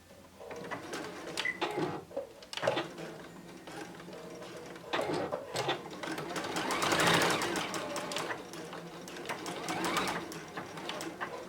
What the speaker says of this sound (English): So I'm going to go ahead and stitch all four corners just before we turn it through.